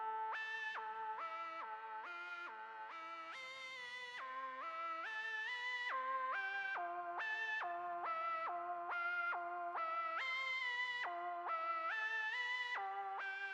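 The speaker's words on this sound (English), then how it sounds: "the last sound towards this melody is called Dirty Lead, which is from Analog Lab 5" A buzzy, distorted synth lead patch called Dirty Lead from Analog Lab 5 plays a repeating melody whose notes glide smoothly into one another, steady and sustained with a touch of echo.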